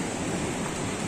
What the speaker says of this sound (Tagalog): So, nakikita nyo, ang lakas ng alon